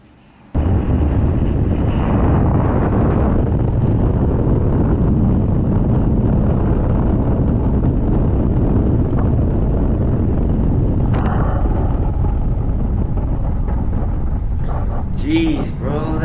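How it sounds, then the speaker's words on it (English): Strong wind buffets a microphone outdoors in California, with smoke nearby, producing a loud, steady rumbling roar that starts abruptly and runs unbroken for about fifteen seconds. "I'm gonna leave the sound on, but all you can hear is just wind"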